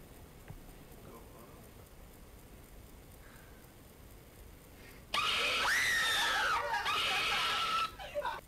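After a stretch of quiet room noise, a person lets out loud, piercing screams during a maze game prank, sustained for a few seconds with wavering pitch and then cutting off abruptly.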